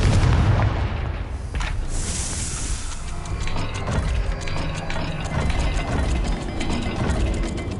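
Explosive booms and rumbling blasts from a blasting curse in the video game Hogwarts Legacy, loud and sustained, with mechanical clanks and crackling debris layered through the whole stretch.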